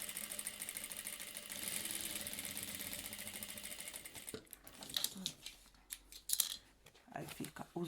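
A domestic sewing machine stitches a zipper onto a small fabric pill holder, a steady mechanical whir for about four seconds, then stops and starts in short bursts as handling noises and a voice come in.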